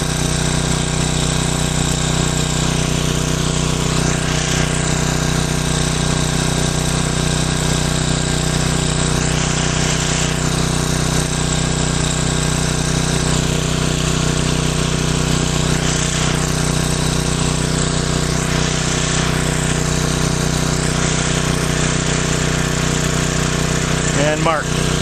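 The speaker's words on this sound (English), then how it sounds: "What that tells me is the engine doesn't really care how much power I'm generating." A generator engine running on HHO drones steadily and loudly without a break, a constant close mechanical hum with no pauses.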